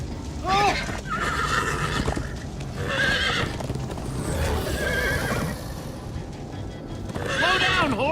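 In the video game Minecraft: Story Mode, horses whinny several times over a steady rapid clatter of galloping hooves, with voices breaking in between the neighs.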